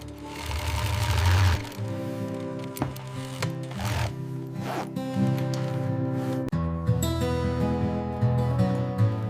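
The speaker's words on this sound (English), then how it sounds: "the razor-sharp polished steel needle effortlessly but violently bursts through the incredibly dense apples" A sewing machine stitches apple leather for a luxury handbag with a polished steel needle, running loud and continuous with rhythmic mechanical whirring and brief pauses between bursts of stitching.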